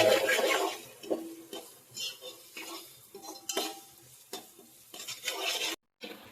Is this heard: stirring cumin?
yes